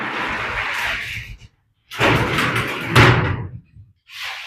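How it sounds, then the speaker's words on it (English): Sliding door on a metal shed rolling along bottom rollers, two loud rumbling passes with a sharp clunk as it stops, separated by brief silences, close by. "So here's the door. It's got rollers on the bottom there, and it just slides over."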